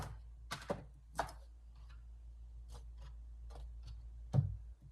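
A knife chops carrots on a cutting board for homemade chicken soup, producing sharp, irregular clacks, a few close together and others spaced out, with one heavier thud near the end, in a quiet kitchen.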